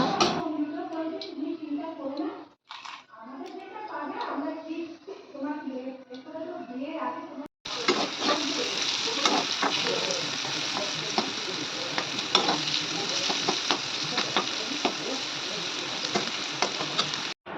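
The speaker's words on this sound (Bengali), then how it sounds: "আর এখানে কড়ার মধ্যে তেল দিয়ে দিচ্ছি, প্রথমে করলাটা ভেজে নেব" Sliced bitter gourd fries in hot oil in a wok, a loud, dense sizzle that starts abruptly and runs steadily with scattered pops. Talk and kitchen movement come first, before the frying begins.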